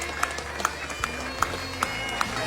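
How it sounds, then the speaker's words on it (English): A crowd claps for veterans arriving off a flight at Orlando Airport at night; sparse, uneven clapping comes through with a few sharper claps standing out. "Everyone just standing around clapping for all of these veterans coming off the plane"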